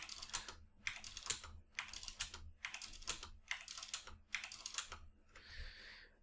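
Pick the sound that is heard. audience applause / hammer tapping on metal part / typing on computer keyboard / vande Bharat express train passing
typing on computer keyboard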